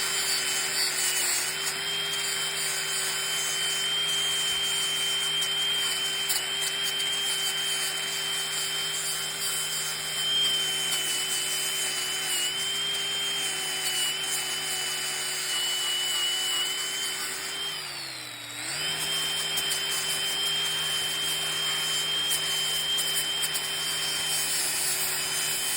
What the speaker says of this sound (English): Just going to give it a little bit of a de-rust here and there with the old wire wheel, the wire brush as it is.